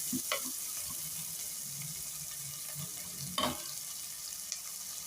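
Oil frying in a pan for quinoa tomato bath, a soft steady sizzle with a few sharp clatters of stirring, faint and close.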